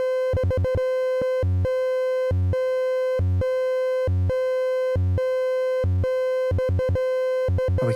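Electronic tones from a Lyra-8-inspired synthesizer plugin beep in clipped bursts: quick triplets, then evenly spaced longer pulses, then fast clusters again, shifting between higher and lower pitches, alone and loud.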